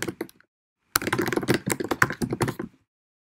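Typing on a computer keyboard while entering text into a web page builder: a brief patter of keys, a pause, then a rapid run of crisp, close key clicks that stops near the end.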